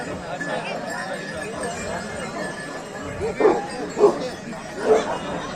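Kangal or Aksaray Malakli shepherd dog barking at a Turkish native-breed shepherd dog competition, three loud separate barks spaced about a second apart over busy outdoor crowd noise and talk.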